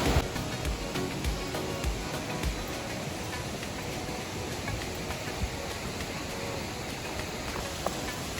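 The waterfall at Kamikawa Otaki Park on Kagoshima's Osumi Peninsula gives a steady, broad rushing roar of falling water, heard fairly faintly from some distance and unchanging throughout.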